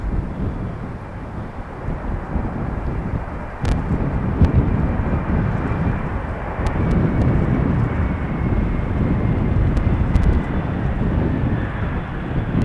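A five-year-old Embraer 175 airliner lands on runway 18R at Amsterdam Schiphol in a gusty crosswind. A loud, broad jet roar rumbles close by, buffeted by wind against the microphone, with a couple of brief sharper knocks.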